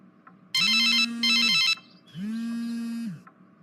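A telephone rings late at night with a boss calling: two loud, trilling electronic ring bursts, then a lower, smoother tone, with no one talking over it.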